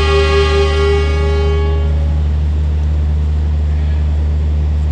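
The Taksaka passenger train departs Cirebon station. A loud, sustained horn sounds for about two seconds and fades, leaving a steady low rumble of the train moving off.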